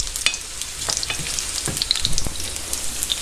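Horse mackerel (chicharros) fry in a pan, a steady crackling sizzle broken by a few close scraping knocks as the fish is turned.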